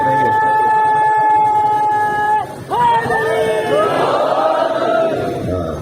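A crowd at a Shia majlis in Tando Allahyar, Sindh, chants religious slogans in loud, sustained unison tones that waver and rise together, sounding amplified and close, with a brief pause partway through.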